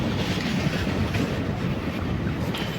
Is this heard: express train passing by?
yes